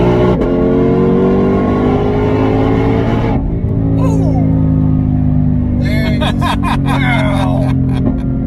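A car in a launch run, left paddle held in before the gas is floored, roars and revs hard with a loud steady engine drone and shifting pitch, people faintly heard inside the cabin.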